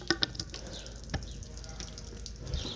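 Water running into the fresh water tank of a 2018 Freedom Elite 24HE RV, a steady splashing, trickling flow with small drips and clicks, close and moderately loud, no speech.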